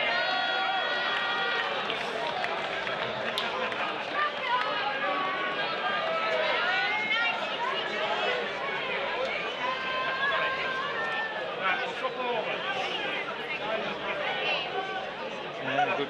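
Crowd at a cricket match, a continuous dense babble of many voices with scattered whistles and calls at a middle distance.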